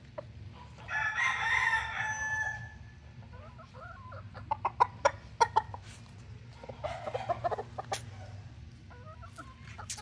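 A McLean x Miner gamefowl stag and bullstag crow loudly up close, one long cock-a-doodle-doo early on, followed by scattered clucks, sharp pecking clicks and shorter calls from the roosters.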